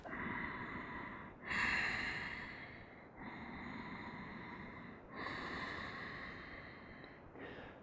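Slow, deep breaths during a beginner yoga class, drawn in and let out in long, steady cycles with noticeable rushes of air, close and fairly quiet, with no talking.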